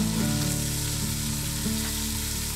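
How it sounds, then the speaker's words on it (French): Venison meat browning in a cooking pot outdoors, a continuous moderate sizzle with a low steady hum beneath it, short and without speech. "Pendant que la viande elle roussit"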